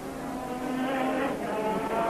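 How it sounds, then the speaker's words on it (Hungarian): Continuous engine roar of Formula One cars pulling away from the pit lane at the 1987 Austrian Grand Prix at Zeltweg, a steady droning whine that swells slightly, with no talking. "Most indulnak el a boxból rajtolt 5 autó."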